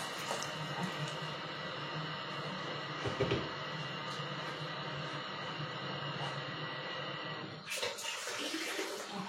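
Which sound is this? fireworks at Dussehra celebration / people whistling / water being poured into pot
water being poured into pot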